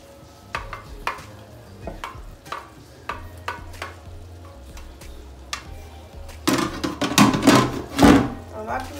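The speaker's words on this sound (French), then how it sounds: "On va toujours bien mélanger le tout" Chicken and vegetable rice with carrots and green beans stirred in a pan: a string of spatula scrapes and knocks over a soft sizzle, growing busier and louder toward the end.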